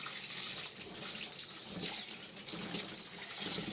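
Filtered tap water runs steadily into a sink for the last rinse of rice for Hainanese chicken rice, a constant close splashing hiss with no voices.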